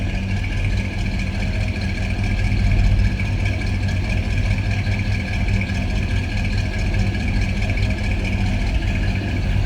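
A 1964 Chevrolet Impala convertible idles steadily with a deep, throaty exhaust rumble, close and even throughout, with no talk over it.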